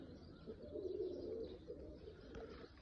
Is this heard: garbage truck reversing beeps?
no